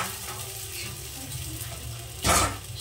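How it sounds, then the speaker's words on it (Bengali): Sago pearls are added to hot ghee, giving a steady close frying hiss with a loud sizzling burst as they hit the pan near the end. "ঘিটা গরম হয়ে গেছে। আমি এবার সাবুদানা কটা দিয়ে দিলাম।"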